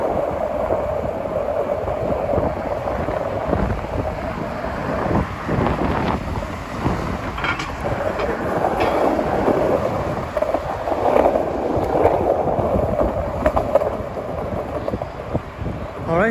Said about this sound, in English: Wind must be 30 miles an hour.